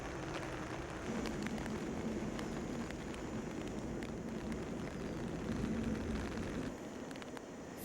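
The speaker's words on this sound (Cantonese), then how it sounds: "飛機最後一直滑到跑道尾，" An airliner touching down in gusty wind shear and rolling out to the end of the runway, a continuous loud broadband roar of engines and rumble holding steady throughout.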